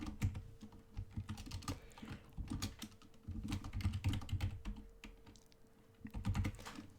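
Rapid clattering keystrokes on a computer keyboard, close and fairly quiet, coming in bursts with brief pauses between them and no speech.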